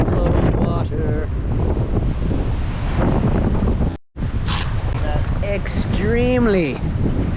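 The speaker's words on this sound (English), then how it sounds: "Extremely windy today." Strong gusting wind roaring into the microphone outdoors, loud and continuous with a brief dropout, while someone talks over it.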